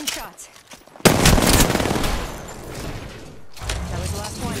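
Rapid gunfire in a shooter video game, a loud sustained burst of shots starting about a second in and running through the clip, with a brief lull before a second, softer stretch of firing.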